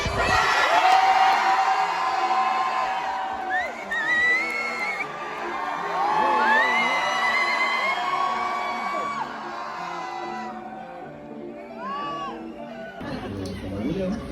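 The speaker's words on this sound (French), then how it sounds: "Faites du bruit pour Samsung Billy." A large crowd at the GP Explorer 3 live event cheers, whoops and yells continuously and loudly, with people speaking over the noise.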